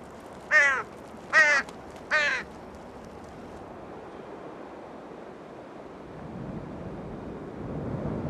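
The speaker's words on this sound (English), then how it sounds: "Magpies rub shoulders with their close kin, carrion crows." Three harsh, loud caws from carrion crows or magpies in quick succession in winter in Korea's DMZ, then wind and distant surf rumbling with no further calls.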